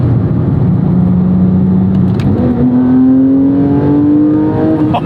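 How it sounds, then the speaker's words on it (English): A Porsche 911 GT3 997.1 with a naturally aspirated flat-six revs up, its tone holding at one pitch before climbing steadily in a smooth rising wail. It is loud and close, with no talk over it. "the sound of this flat six it's one of the best sounding engines I have personally heard"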